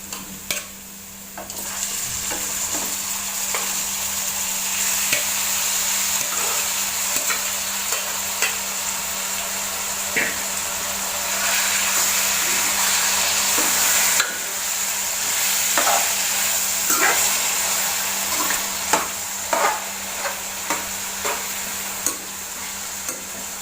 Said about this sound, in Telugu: ఉల్లిగడ్డ ముక్కలు వేగిన తర్వాత ముందుగా కలిపి పెట్టుకున్న చికెన్ని దీంట్లో వేయాలి